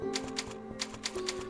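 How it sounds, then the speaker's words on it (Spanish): Typewriter keys in Resident Evil 4 clack in a quick, uneven run of about six crisp strikes over a steady hum, close and clear, with no voices. "Máquina de escribir."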